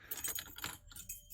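Metal keys jangle in a few quick, faint clusters of light clinking, fairly close by, with no talk over them.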